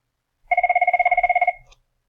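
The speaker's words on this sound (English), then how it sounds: "Sorry about that, had a phone call." A telephone bell rings close and loud, a rapid trilling burst of about a second made of evenly pulsed electronic tones, then stops abruptly in silence.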